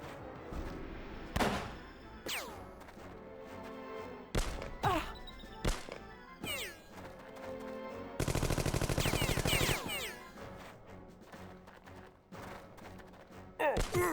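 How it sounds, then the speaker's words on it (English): Sharp gunshots crack out in a tactical shooter match of Jagged Alliance 2, single reports around 1.5, 4.5 and 5.7 seconds, then a dense burst of rapid automatic fire near 8 to 10 seconds, with a final shot near the end. "Shoot your elite friend in the head."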